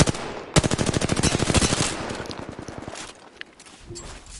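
Rapid automatic gunfire in the Apex Legends video game, a dense burst of close, loud shots that rattles on for about two seconds before thinning into scattered, quieter reports and echoes.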